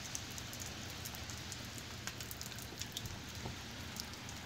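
Steady rain falling on garden surfaces and a lidded container outdoors, a dense even patter with scattered nearby drips, continuous throughout with no voices.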